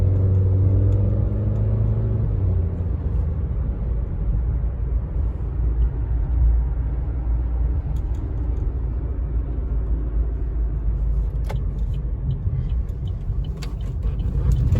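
A 2021 Chevrolet Trax accelerating on a test drive, heard from inside as a steady, loud engine and road drone that rumbles on without a break.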